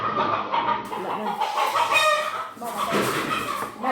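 Chickens cluck repeatedly at close range in a short, busy burst of calls, with a few voices faintly in the background.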